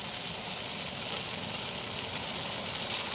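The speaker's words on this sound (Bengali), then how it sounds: "এর মধ্যে এবার আমরা বেটে রাখা আদা রসুনটা দিয়ে দেবো" Ginger-garlic paste sizzling hard in a hot pan, a steady, dense crackle that holds even and close with no pauses.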